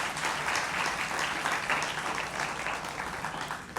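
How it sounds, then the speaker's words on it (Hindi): An audience applauds steadily to welcome actress Kajol Devgan onto a talk stage, a dense, even wash of many clapping hands that holds for the whole stretch with no voice rising above it. "एक बार फिर तालियों के साथ स्वागत करिए काजोल देवगन का"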